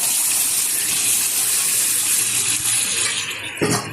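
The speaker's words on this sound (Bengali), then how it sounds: "এখন দিয়ে দেবো সিদ্ধ করে রাখা রাজমা ঢেলে দিচ্ছি" Boiled kidney beans poured from a container into a pan of cooked-down spice masala, a steady close rushing pour ending in a brief clatter.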